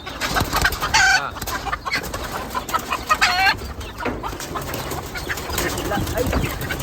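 Native egg-laying chickens cluck repeatedly at close range, with short harmonic calls bursting out around the first and third seconds over a busy, noisy yard background.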